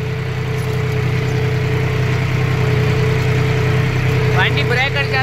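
A John Deere 5050D tractor pulls a 9-ton cultivator in a field, its diesel engine giving a loud, steady, close drone throughout, with a brief squealing sound near the end.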